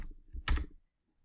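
Keys on a computer keyboard tap in a short, soft cluster of clicks, close and quiet, ending in near silence.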